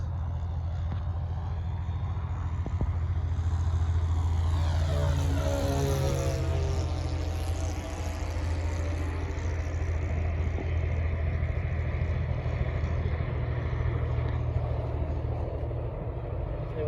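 A Sig Four Star model airplane with a four-stroke engine flies aerobatics overhead, its engine a continuous droning rumble that rises and falls in pitch as it passes through a roll, steady and moderately loud throughout.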